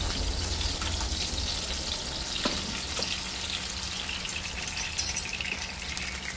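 Beaten eggs with onion, seasoned with pepper and salt, are poured into a hot pan and fry with a steady, fairly faint crackling sizzle throughout, with no talking.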